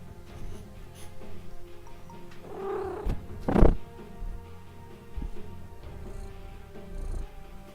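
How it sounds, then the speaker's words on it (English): A cat gives a short, throaty vocalization, followed by a brief burst of rustling noise nearby, with quiet background hum throughout. "Not sure if my mic's picking up any cat noises."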